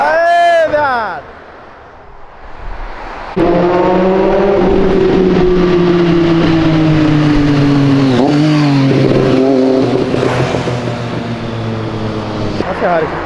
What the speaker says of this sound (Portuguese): Olha a Ferrari.